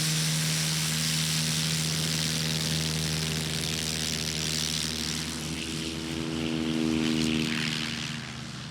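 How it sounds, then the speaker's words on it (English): A STOL airplane takes off during a competition, its propeller engine droning loud and steady with a strong tonal hum that slowly shifts in pitch as it climbs away, with no talking. "That, I think, was the best takeoff of Jeff Abrams, yeah?"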